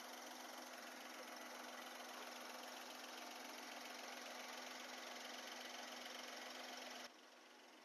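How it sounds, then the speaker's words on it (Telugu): A 2014 Maruti Wagon R LXi running on CNG and petrol idles with a quiet, steady, even hum that drops abruptly near the end. "ఇంజిన్ అయితే చాలా సైలెంట్గా ఆడుతుంది."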